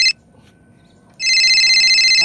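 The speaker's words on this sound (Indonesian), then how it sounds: "Aduh, ada telepon lagi." A telephone rings loudly, a short electronic tone at the start, then after a quiet gap a sustained steady ringing tone that continues to the end, with no talking.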